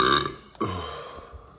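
A single loud, close belch from a muscular blond man, a long resonant burp that trails off gradually, heard alone without talk.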